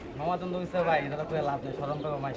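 Pigeons coo at a bustling pigeon market in Saruliya, Bangladesh, their soft rolling calls repeating close by while people talk over them throughout.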